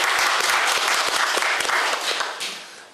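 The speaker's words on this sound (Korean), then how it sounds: "더 열심히 하시라고 박수 한번 부탁드리겠습니다" Applause from attendees at a county government executive meeting in Goseong: loud, dense clapping that holds steady and then fades away toward the end.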